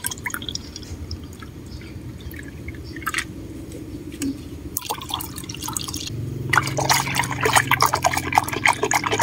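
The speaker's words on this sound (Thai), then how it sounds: "ตามด้วยน้ำปูนใสนะคะ1แก้วค่ะ200มล." Limewater, about 200 ml, poured into homemade liquid fertilizer: soft dripping and trickling at first, which turns into a steadier, fuller pour of liquid toward the end.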